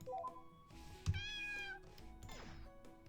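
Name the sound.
cat meow sound effect in The Wizard Cat video game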